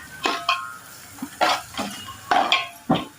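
Vegetables being sautéed in a pot for soup come through as a few distinct stirring scrapes and clatters of a spoon against metal, spaced in short bursts, close by with no talking.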